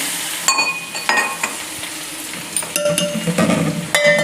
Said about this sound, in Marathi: मस्त छान फोडणी करून घ्यायची